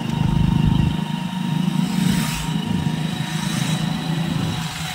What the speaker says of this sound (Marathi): इकडच्या साईडला थोड्याशा मोटरसायकल वगैरे लागल्या मित्रांनो आम्हाला